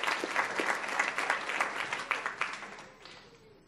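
Applause for an honored teacher at a school board meeting, individual claps distinct in a moderate room crowd, fading out gradually over the last second.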